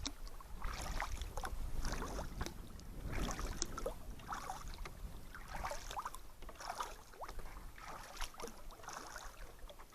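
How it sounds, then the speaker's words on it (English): Paddle strokes splash and swish through water in a steady rhythm as a heavily gear-loaded canoe is paddled, with light wind noise and gentle dripping between strokes. "But the boat actually paddles pretty well, considering how loaded down it is."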